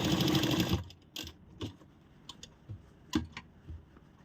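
Sewing machine stitching a shawl-collar blouse, a short close burst of running needle chatter that stops, followed by scattered light clicks and taps, quiet and without talk.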